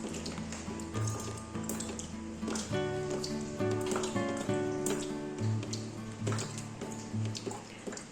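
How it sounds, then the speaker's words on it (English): Irregular drips and splats of rain water falling onto granite inside a stone house in Portugal, close by, over a steady wash of rain with some tonal background hum. "The rain is entering from above and dripping down onto the granite"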